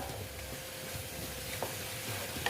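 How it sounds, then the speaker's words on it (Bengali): Spices with turmeric fry in a pan for a fish curry (boal macher jhal), giving a steady low sizzle with a few soft stirring scrapes and no talking. "এইবার আমি আর একটু ভালো মতন কষিয়ে নেব মশলাগুলো"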